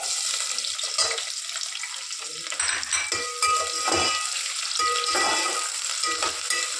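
Chopped onion dropped into a hot pan of oil with whole garam masala, cloves, cardamom, cinnamon and bay leaves, sizzling and frying steadily with a few utensil clinks and scrapes, close and fairly loud, no talking.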